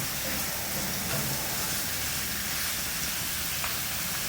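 Thinly sliced, long chicken strips frying in a pan for chicken curry: a constant close hiss and sizzle, even and dense throughout with faint pops.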